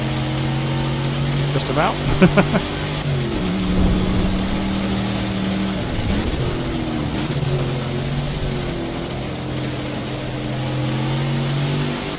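A Ford Mustang engine in a racing video game hums and revs steadily, rising and falling in pitch through the run, with someone speaking briefly over it.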